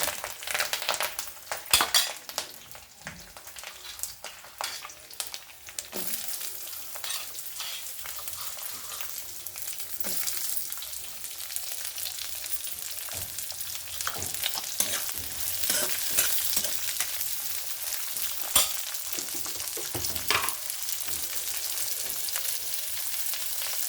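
Curry leaves, chana dal, mustard seeds and cumin fry in hot oil as a tempering for a brinjal curry, a continuous crackling sizzle with bursts of popping and occasional stirring clinks, close and fairly steady.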